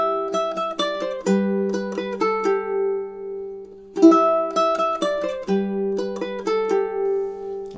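Two bars of Carol of the Bells picked on a ukulele, clean plucked notes in a steady repeating pattern with a low ringing note underneath, played alone without talk.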